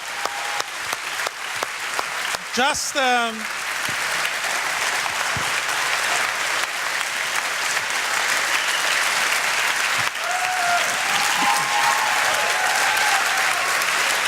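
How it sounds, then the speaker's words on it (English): Audience applause after a design talk at the What Design Can Do 2012 conference, loud sustained clapping filling the whole stretch, with a brief voice and a high whistle-like sound near the start. "Please, round of applause."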